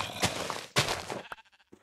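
Two drawn-out sheep bleats in a video game, close and fairly loud, followed by a few short, quieter bleat-like calls, with no talking.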